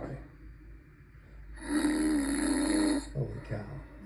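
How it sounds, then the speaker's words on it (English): A recording of loud snoring is played through a computer's speakers as one long, rumbling, raspy snore, followed by a brief snort, in a mountain hut. "10 hours of snoring."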